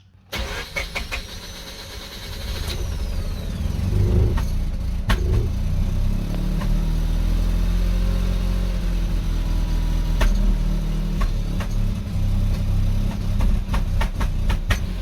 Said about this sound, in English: if I keep my foot on the throttle, I can keep it alive and rev it up